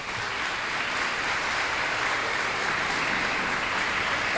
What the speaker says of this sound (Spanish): Un aplauso para que se animen los otros también